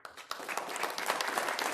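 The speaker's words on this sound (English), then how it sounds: "Please hold your applause." Clapping from an audience in a city council meeting chamber swells after a brief pause, a dense, moderately distant patter of many hands building over under two seconds.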